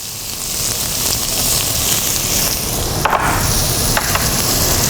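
Minced shallot sautéing in olive oil and butter in a pan, a steady, close hiss and sizzle with a few faint clicks and no talking.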